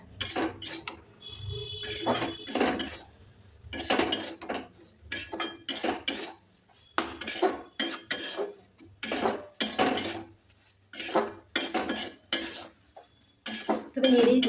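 A metal spoon scrapes and clinks against a pan as semolina is stirred while frying in ghee, in repeated short bursts of rhythmic scraping close to the microphone.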